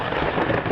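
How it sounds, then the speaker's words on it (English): Thunder rumbling through a monsoon thunderstorm, a dense, steady broadband roar filling the short moment, loud and enveloping with no clear onset or break. "looks like we have a thunderstorm"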